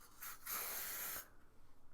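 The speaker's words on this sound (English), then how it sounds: "Okay, so what you want to do is go ahead and spray it." Split end mender spray misted onto hair, one steady hiss of under a second, close and fairly quiet, with a brief short puff just before it.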